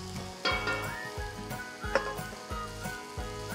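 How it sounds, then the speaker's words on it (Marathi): Vermicelli sautéed with vegetables in a pan for masala shevai, giving a steady close sizzle with repeated scraping stir strokes about every half second and no talking. "1 मिनिट परतूया।"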